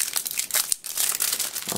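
Plastic packaging from an unboxed puzzle cube is torn and crinkled open by hand, a close, brief burst of sharp rustling with a short pause midway.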